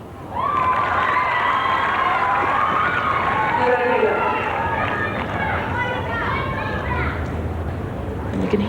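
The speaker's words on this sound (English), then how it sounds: "You can hear the cheers for Monica in the background." Large tennis crowd at the 1996 Peters International cheering for Monica Seles, a loud sustained roar of shouts and whistles filling the whole stretch, with a voice talking over it.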